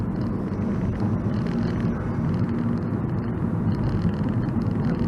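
A Stage 2 tuned Vauxhall Opel Corsa E VXR accelerates hard, heard from inside as a loud, steady, deep engine and road roar that holds for the whole stretch with no voices over it.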